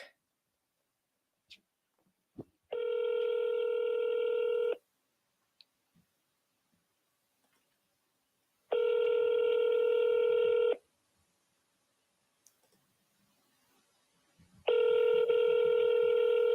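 Three long, steady ringback tones of an outgoing telephone call, each about two seconds, separated by quiet gaps of roughly four seconds, with a few faint clicks in between; no one speaks.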